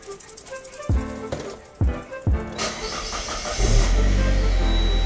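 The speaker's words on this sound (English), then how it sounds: "I'm gonna turn the engine on, listen for any leakage" A Saab 9-3 with its muffler deleted cranks over several times with sharp chugs, then catches and settles into a loud, raspy idle close by.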